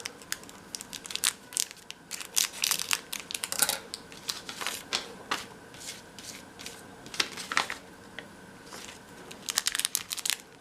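Tiny toy ice pieces from an MGA Mini Verse Make It Mini Food kit are poured into a small cup, producing a steady run of light plasticky clicks and rattles, close and fairly quiet, with no talking.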